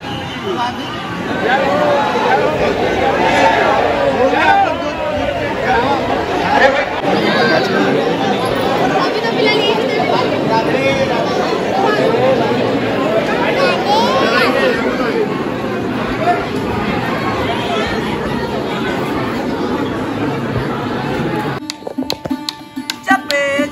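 Dense crowd chatter fills the narrow lanes of the Banke Bihari temple queue in Vrindavan, many overlapping voices babbling continuously at close range, with a sudden drop to quieter sounds near the end.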